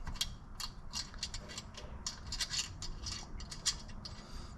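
Nylock nut being threaded onto a bolt while fitting Gobi external Molle panels on a 5th Gen 4Runner, heard as quiet, close, irregular ratcheting clicks and metallic scraping in short bursts.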